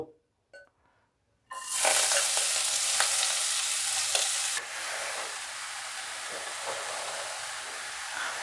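After a few soft clinks, a spiced cauliflower filling for gobi paratha hits hot oil over medium-low heat with a sudden loud sizzle that continues steadily, easing slightly partway through.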